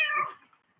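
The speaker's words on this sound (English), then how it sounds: "We hear the cat." A house cat lets out a single short meow, fairly close and clear, fading quickly into silence.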